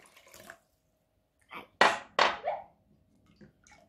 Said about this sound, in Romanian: Noi trebuie să punem și un pic de oțet.